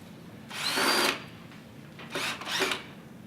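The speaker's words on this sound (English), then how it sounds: "Now, I'm going to put in some screws to hold it together." A power drill drives screws into wood in two bursts: one long whirring run, then a pause and two shorter quick spins close by, with no talking.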